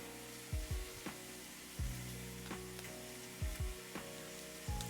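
Short rib browns in a hot pan for chili, sizzling steadily and loudly up close, with repeated low thumps and scrapes as the meat is moved around.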